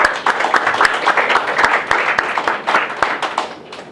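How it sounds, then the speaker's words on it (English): An audience breaks into applause, dense rapid clapping from many hands that holds steady and loud, then tapers slightly toward the end. "So you can give a round of applause for Max, please"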